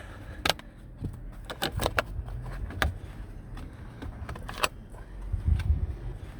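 Plastic trim cuffs at the base of a car seat are pried off with sharp clicks, snaps and rattling plastic knocks at close range, interspersed with soft handling thumps.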